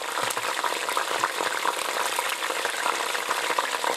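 Carrot, potato and onion frying in oil in a pressure cooker pot, a steady crackling sizzle that stays even and close throughout with no talking.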